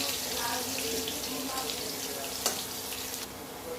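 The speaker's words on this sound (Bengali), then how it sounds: "উল্টে পাল্টে এরকম ভেজে নেব।" Potato pieces frying in hot oil in a pan and being turned over, a continuous close sizzle with soft stirring and scraping sounds and a brief clatter near the end.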